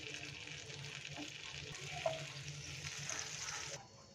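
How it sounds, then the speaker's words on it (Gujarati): Kutchi dabeli roasting in butter on a low flame gives a steady, soft sizzle with a gentle hiss that holds evenly and then fades near the end. "બટરમાં ધીમા તાપે આપણે તેને શેકાવા દેવાની છે"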